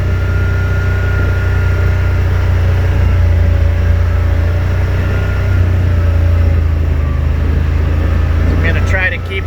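A Yamaha RMAX 1000 side-by-side in trail mode climbs a steep trail slowly, its engine a steady, loud low drone with a constant rumble throughout, while a rider speaks over it.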